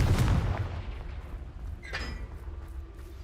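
A Confringo fire spell explosion in Hogwarts Legacy gives a loud burst at the start that decays into a rumbling tail, followed by a fainter crackle and hiss.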